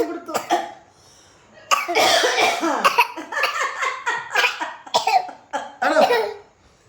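A run of rough, repeated coughs, close and fairly loud, coming in uneven bursts with brief gaps between them.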